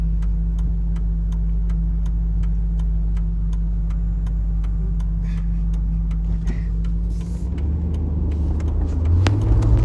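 A car idles and rolls up to an intersection, a steady low engine rumble with a regular ticking, likely a turn signal, running throughout and the engine note rising near the end, with no talking.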